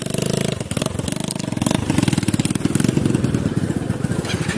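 A Honda Wave Alpha motorcycle idles close by with a steady, rapid putter, and a brief blip of throttle lifts the beat near the start before it settles back.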